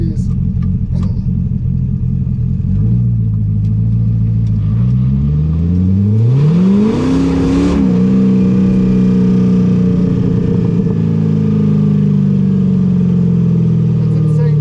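A C6 Corvette with an LS7, Z06/ZR1 type, pulling hard: a loud engine drone climbs steadily in pitch, dips at a shift, then climbs again, heard from inside the car with a constant roar throughout.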